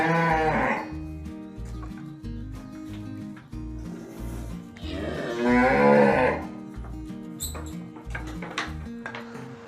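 Cows on a farm moo loudly and up close, giving three long drawn-out calls at the start, middle and later on, over steady low background noise.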